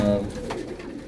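A Rampuri pigeon gives a brief, close coo that fades toward the end of the burst.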